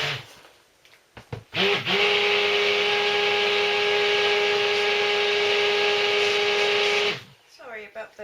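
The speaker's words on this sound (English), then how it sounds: "Sorry about the noise from the blender there." A stick blender whirs steadily in soap batter for about five seconds, loud and close, with a sustained motor hum, bracketed by scraping handling sounds and talk before and after.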